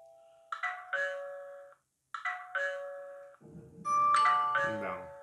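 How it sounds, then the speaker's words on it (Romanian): Indoor chime of a SMART D05 WiFi video doorbell rings out a clear two-tone melody twice, then phones join with a brighter ringtone over a low buzz, all close with no speech. "a sunat soneria de interior plus cele două telefoane"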